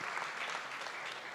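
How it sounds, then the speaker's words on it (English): Steady, dense applause from an audience at a school board of education meeting, filling the short moment evenly with no talk over it. "We love the applause"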